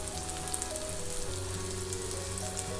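Pea cutlet shallow-frying in a pan on low gas, a steady, even sizzle with fine crackling, close and continuous with no voices.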